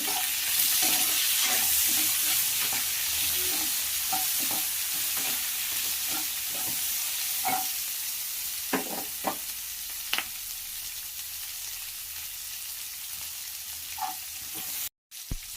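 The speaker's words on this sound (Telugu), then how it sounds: "ముందుగా కట్ చేసుకున్నటువంటి ఆనియన్ మొదట వేసుకొని కొద్దిసేపు ఫ్రై చేసుకోవాలి" Chopped onions fry in hot oil in a pan for Andhra-style tomato gojju, giving a steady close sizzle, punctuated by light clicks and taps of a stirring spoon.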